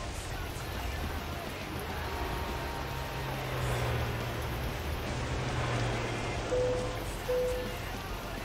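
Steady rain patters over a low engine drone inside a truck cab in a US trucking video game, a soft continuous hiss with a couple of faint tonal blips, no voices.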